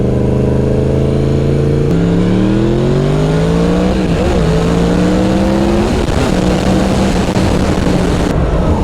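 A Yamaha MT10 motorcycle accelerating hard with its front wheel lifting: a loud, close engine howl climbing steadily in pitch, with a quick shift that drops the note before it rises again.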